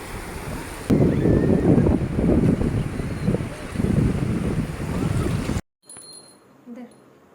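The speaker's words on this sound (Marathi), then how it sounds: "पाठीमागून लाट आली आहे" Sea waves wash in on Alibag beach, a steady loud rush of surf and wind buffeting the microphone for several seconds before cutting to a much quieter stretch.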